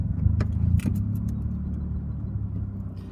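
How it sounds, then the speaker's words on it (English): A manual transmission car pulls away from a stop, its engine hum dipping as the clutch bites, with a low steady drone and a couple of brief clicks near the start, no talking. "Car's RPMs are dropping a bit, and then now I'm moving and let go all the way."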